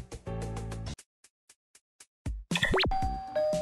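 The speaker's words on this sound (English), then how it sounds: "That was the doorbell." A doorbell in the Pororo kids video game gives a clear electronic ding-dong chime, followed by soft ticking and then bright sweeping game sound effects, with no talking.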